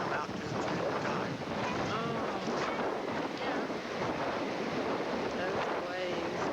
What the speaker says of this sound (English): Those waves.